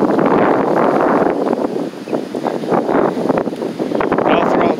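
Wind gusting in hot summer weather outdoors, a steady broadband roar buffeting the microphone, swelling and easing in waves throughout, loud and close with no speech over it.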